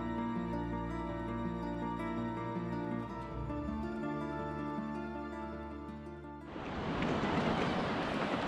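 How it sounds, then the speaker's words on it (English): A train rolls southbound along the Cambrian Coast Railway at Fairbourne, its engine drone and rail noise steady at a distance before giving way to a rushing, breezy wash. "this train just making its way southbound down the Cambrian Coast Railway"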